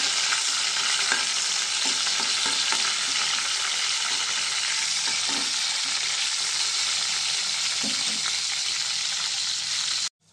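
Garlic, cumin, mustard seeds and curry leaves frying in hot oil for a tempering, a loud continuous crackling sizzle with faint stirring knocks, close up, ending abruptly.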